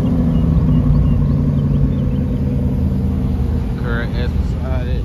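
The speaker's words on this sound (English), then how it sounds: "The CAR sounds real good, though, y'all." At an outdoor car meet, a sports car engine gives a deep, steady, close rumble that lasts throughout while people talk over it.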